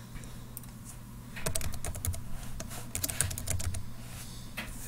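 Someone typing code on a computer keyboard, rapid close clicking keystrokes in irregular bursts over a low steady hum, no voices.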